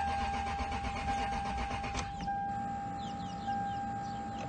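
A 2004 Lexus LS 430 engine cranks and catches, a steady starter whir giving way abruptly to a quieter idle, heard close up with faint chirping birds outside.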